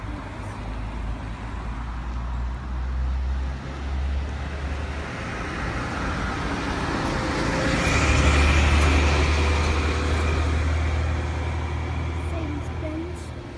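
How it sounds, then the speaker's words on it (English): A bus approaches on a road near Calare Public School during the afternoon peak, its low engine rumble swelling louder as it draws near, with some talk over the traffic. "Got a bus coming."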